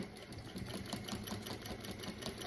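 A sewing machine runs steadily at close range while stitching bias binding onto a mini suitcase, giving an even, continuous mechanical hum for a few seconds without talking.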